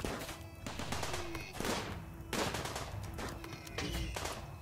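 Rapid bursts of automatic turret gunfire crackle repeatedly in dense volleys, loud and close, during a base defence battle in the video game RimWorld.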